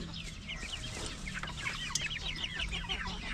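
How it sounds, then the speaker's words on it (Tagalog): Several backyard chickens and ducks cluck and chatter continuously at moderate distance while being fed, with soft overlapping calls and a low background hum. "Para sa ating mga alagang pato. Pato at manok."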